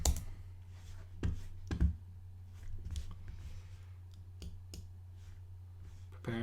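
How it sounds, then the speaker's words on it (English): A password being typed on a computer keyboard: sparse, irregular key clicks spaced across several seconds over a steady low electrical hum, close and quiet, with no voice. "Type in your password."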